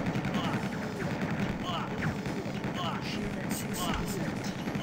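Gunfire in a first-person shooter game, a steady stream of rapid shots and booms forming a dense bed throughout, with excited talking over it.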